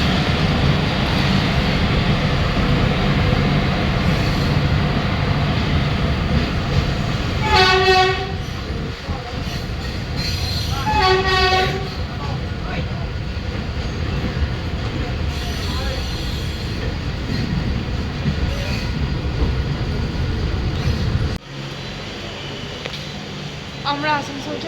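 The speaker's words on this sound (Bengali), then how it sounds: "আসানসোলে ট্রেন ঢুকে গেছে, আমরা এবার নিয়ে যাব।" A train pulling into Asansol station rumbles and rattles loudly throughout, its horn blaring in two distinct blasts partway through before the roar drops away near the end.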